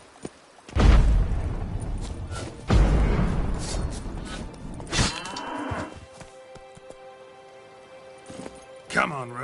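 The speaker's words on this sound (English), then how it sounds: "It's raining cows at the Ardais Quarter. Not frogs, not cats and dogs, but cows." Cattle in The Witcher 3: Blood and Wine give several loud, drawn-out moos, one after another, over thuds and a scattered patter like rain, and a voice speaks amid the lowing.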